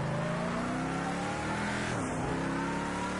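A race car engine in a racing game revs hard in second gear, its steady loud drone rising and falling in pitch with a brief dip near the middle, tires hinting at squeal, no talk.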